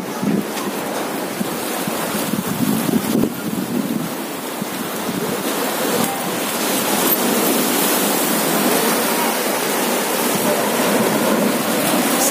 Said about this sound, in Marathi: समुद्री या लाटा खूप उसळत असतात